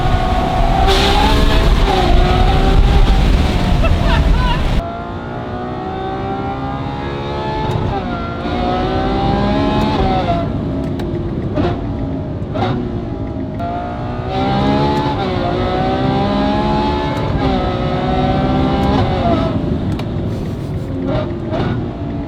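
A Ferrari 812 V12 with titanium exhaust and free-flow front pipes howls loudly, pitch climbing and falling repeatedly through gear changes as the car accelerates.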